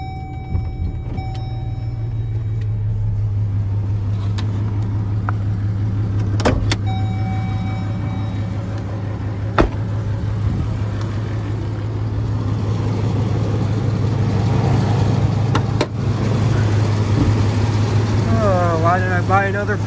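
A steady engine hum comes from an old pickup truck with a 4.3 engine and nearly 300,000 miles, running smoothly and close by. A few faint clicks and a rising whine near the end sit over the constant drone.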